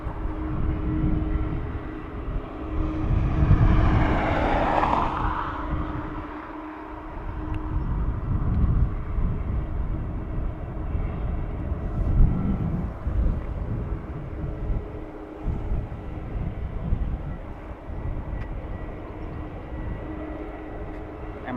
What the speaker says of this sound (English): Aer Lingus 330 in, United 757 out.